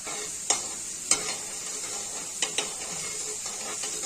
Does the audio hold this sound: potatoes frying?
yes